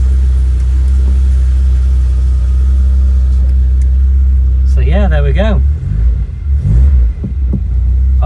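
A 1991 Vauxhall Nova GSi idles with a loud, steady low engine rumble, then revs up and down in two quick rising bursts before settling, with a person speaking briefly over it.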